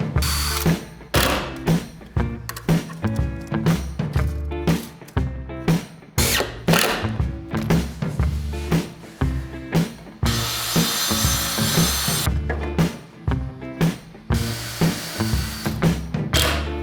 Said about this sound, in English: rip them on the table saw